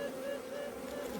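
Swarm of honeybees buzzing steadily and close while being removed from a dune buggy, a continuous droning hum with no talk over it.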